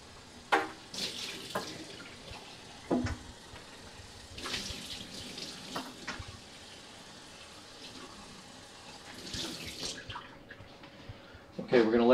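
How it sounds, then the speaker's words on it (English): Tap water runs in bursts over the parts of a BEAR one-step baby food maker (steamer and puree blender) being rinsed at a sink, with splashing and intermittent handling noises and a voice talking at times. "make sure that it is unplugged and you can clean and rinse this out."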